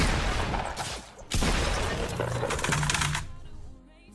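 Rapid bursts of automatic gunfire in a Fortnite battle, loud and dense with chattering shots packed together, a short pause, then another sustained volley that fades near the end.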